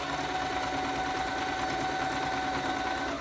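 A sewing machine runs continuously at close range, stitching a waterproof fabric strap for a backpack, a steady fast mechanical whir and hum with no pauses.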